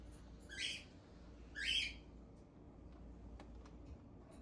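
A pet bird at home gives two short, bright screechy calls, apparently mimicking a vacuum cleaner, with a few faint clicks and quiet room noise afterward.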